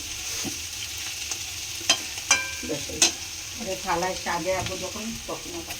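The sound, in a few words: stirring a dish in a frying pan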